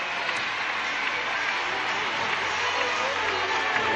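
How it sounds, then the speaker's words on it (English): Audience applause in the arena at a Commonwealth Games gymnastics apparatus final, a steady wash of clapping at moderate distance with a commentator's voice over it. "The Australian team, the all-around winner, leading the applause."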